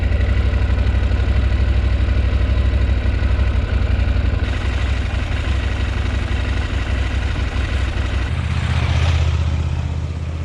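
A motorcycle engine runs steadily at close range before an off-road ride on the Trans Euro Trail in Norway, with a loud, even drone that shifts in tone near the end.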